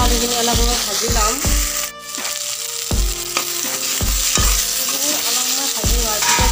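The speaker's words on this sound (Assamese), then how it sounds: "ঢাকনি মাৰি ভাতকেৰেলা আলুখিনি অলপ সময় ভাজি ল'ম" Bitter gourd and potatoes sizzle steadily in a frying pan while a spatula scrapes and taps against the metal at a regular rhythm, close and clear, with a voice talking faintly over it.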